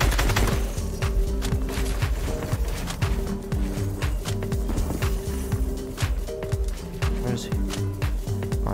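Gunshots in Fortnite ring out in quick repeated bursts throughout, sharp cracks over a busy game soundscape with a steady musical drone, with a player's voice talking over the action.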